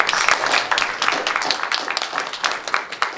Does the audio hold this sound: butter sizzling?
no